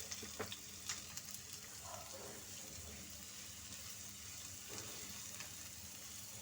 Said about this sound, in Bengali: পেঁয়াজ রসুন কুচিটাকে একটু ভালোভাবে ভেজে নিতে হবে।